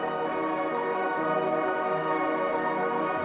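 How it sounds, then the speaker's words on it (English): Shimmer reverb with pitch delay, a sustained bright wash of layered, octave-shifted tones hanging at an even level with no distinct attacks. "some of those reverbs have a very special setting called shimmer"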